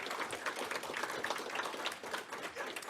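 Audience applause at an education session fills the clip, a dense, steady wash of many hands clapping at moderate loudness with no break.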